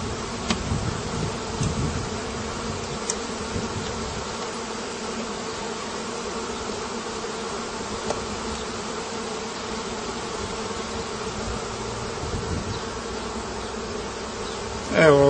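Honey bees buzz around an open hive that is being lightly smoked, a steady, dense drone that continues throughout.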